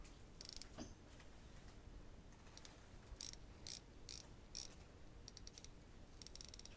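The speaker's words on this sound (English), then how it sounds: "This one has a 60 click bezel, and it's a lot more mechanical feeling." The 60-click bezel of a Citizen Promaster NY0040-09E automatic dive watch ratchets around in crisp, faint, close clicks, arriving in short bursts and single notches with quiet pauses between.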